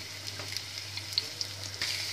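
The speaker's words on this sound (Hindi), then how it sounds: "तो तड़के में अदरक और लहसुन को मैं भून लेती हूँ।" Ginger and garlic frying in ghee for a dal tadka, a soft steady sizzle with a low hum beneath and a few light clicks of stirring, close and fairly quiet.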